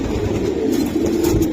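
A racing pigeon coos softly and close by, a low, steady burbling murmur running through the brief moment with no voices.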